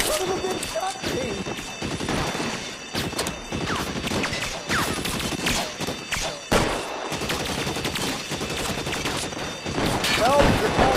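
A chaotic shootout in L.A. Noire, with dense overlapping gunshots, crashes and impacts filling the scene continuously, loud and close, with shouted voices mixed through the din.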